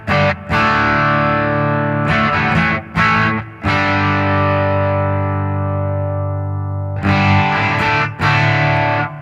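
Electric guitar run through a TC Electronic Plethora X3 multi-effects pedal, heavy distorted chords rung out and held with a long sustain, broken by short pauses and quick restrikes, loud and close with no talking.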